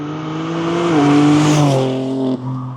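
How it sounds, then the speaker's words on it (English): A 2023 BMW M3 Competition sports sedan with a 3-liter, 503-horsepower inline-six accelerates hard, its loud engine note climbing in pitch and then dropping sharply with a quick upshift, up close and without talk. "this is a 2023 BMW M3 Competition"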